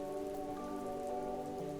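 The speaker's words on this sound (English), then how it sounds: "As the door opens, you hear that kind of light rain outside." Light rain falls outside as a door opens, a steady, even patter on surfaces that runs unbroken and fairly soft, with no voices over it.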